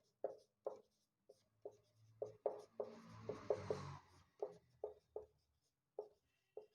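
Chalk tapping and scraping on a board during a Hindi-language mathematics lecture, heard as a quick series of close, crisp strokes in irregular bursts with short pauses, no talking over them.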